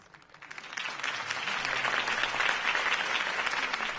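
A crowd in Batman: The Telltale Series bursts into sustained applause, swelling quickly and staying loud and dense throughout.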